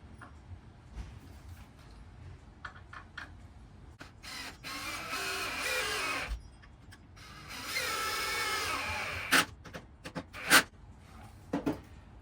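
Deck screws being driven into 2x3 shelf pieces held in a jig, heard as bursts of power-driver whirring and ratcheting with short clicks and rustles between them, close and moderately loud.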